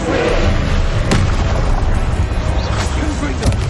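Fire spell cast in the Hogwarts Legacy video game, a loud whooshing magical blast with sharp bursts and crackle, sustained and dense over steady game ambience for several seconds.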